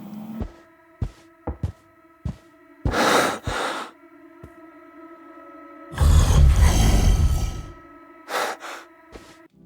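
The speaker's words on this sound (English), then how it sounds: "he can hear his own breathing intensify" Breathing from the video game Workaholic Simulator comes in short, sharp breaths that grow into longer, heavier heaves over a low sustained hum, intensifying toward a loud gasping surge.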